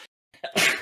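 A single sharp sneeze bursts out close and loud after a short intake of breath.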